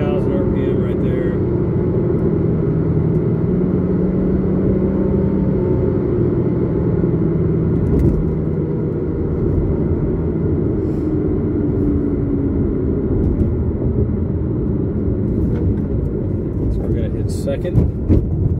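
Porsche Cayman engine holding about 4,000 RPM in third gear while cruising, a loud, steady, close cabin drone with deep rumble that barely changes over the whole stretch.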